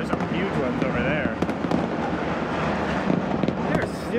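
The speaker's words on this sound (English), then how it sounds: "that's the New Year fireworks" New Year fireworks in the Philippines burst continuously through a dense, noisy backdrop of crackling pops and booms, with people talking over the din.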